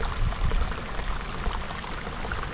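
Hot spring water pours steadily into a soaking pool, a continuous close splashing rush with no pauses and no voices.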